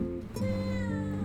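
Pet cat meowing on carpet indoors, one short call followed by a long drawn-out tonal meow, close and clear with no talking.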